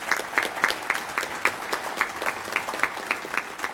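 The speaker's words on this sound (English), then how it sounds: "So, round of applause for Kyle, please." Audience applause at a Republican Party county endorsement meeting, a modest group clapping in a fairly regular rhythm, distinct individual claps audible, moderately loud and steady with no talking.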